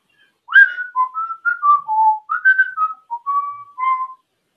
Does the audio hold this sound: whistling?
yes